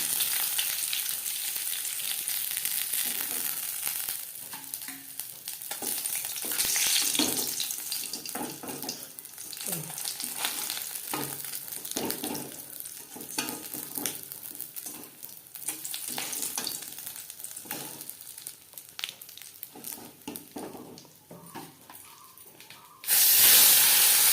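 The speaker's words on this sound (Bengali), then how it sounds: "তিনবারে আমি মাছ ভেজে নিয়েছি" Tilapia fish fries in oil in a kadai, hissing and sizzling steadily with occasional stirring scrapes. A burst of running water comes at the very end.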